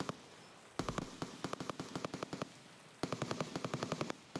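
Automatic gunfire from a gun in the shooter game Escape from Tarkov, two long bursts of rapid, evenly spaced shots separated by a short pause, loud and close with no talking.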